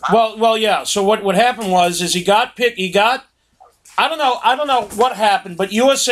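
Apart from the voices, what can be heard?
None of the usual background noises is heard.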